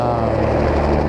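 A Western Helicopter aircraft flying an aerial spraying run over an elk reserve gives a loud, close, continuous rotor and engine roar without a break.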